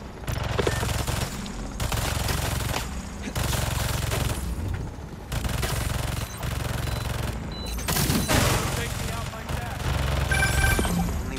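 Turret gunfire in Marvel's Spider-Man 2 erupts in repeated heavy automatic bursts, each a couple of seconds long and separated by short gaps, loud and booming with faint game voices beneath.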